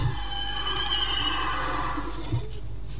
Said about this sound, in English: the sheepy sound effect, the kill effect, has been changed